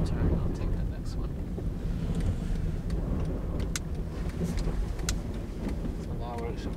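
A 2013 Honda Fit with a five-speed manual on snow tires drives over ice, a steady low road rumble and cabin drone with occasional clicks and ticks, a voice talking over it.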